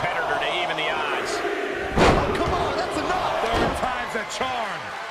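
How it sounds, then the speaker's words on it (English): A steel cage door swings open with a heavy metallic slam midway in the WWE 2K23 War Games tag-team match, amid arena crowd noise and game commentary. "Door swings open and out they come."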